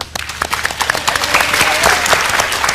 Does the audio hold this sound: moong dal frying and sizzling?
no